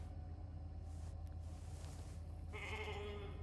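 Sheep called Molly in The Alters lets out a bleat toward the end, a wavering cry over a steady low drone of game ambience, fairly quiet overall.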